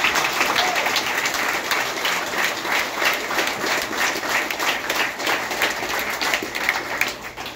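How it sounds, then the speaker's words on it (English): An audience breaks into sustained, dense applause that holds at an even level for several seconds, a continuous wash of many hands clapping with no speech over it. "So please, can we give Val and Bruno a round of applause?"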